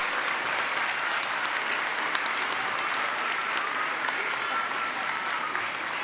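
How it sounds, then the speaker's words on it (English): An audience at a university graduation ceremony applauds students crossing the stage. The clapping is a steady, even roar from a large crowd in a big hall and lasts about six seconds with no speech. "can I encourage everybody to clap for all the students as they go across the stage"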